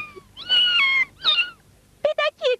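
A kitten gives several meows in an animated Heidi cartoon, one long drawn-out cry followed by shorter ones and then three quick high mews, close and clear.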